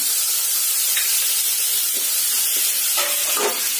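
Tomatoes frying in a pan with garlic and cumin, giving a loud, steady broadband sizzle and hiss that runs throughout, with a few faint clicks and stirring touches.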